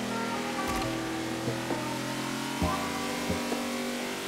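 Engine of a free NASCAR stock car in a racing video game, a steady loud droning hum with shifting harmonic tones and a few brief accents, no talk over it.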